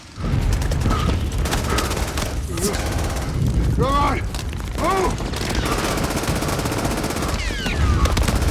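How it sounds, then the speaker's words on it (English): A German MG42 machine gun fires in a Saving Private Ryan battle scene. Loud, dense, rapid bursts of gunfire and booms run continuously, with whizzing sounds and voices mixed into the chaotic soundscape. "MG42 was a machine gun the Germans had that fired at a faster rate than any of the Allied machine guns."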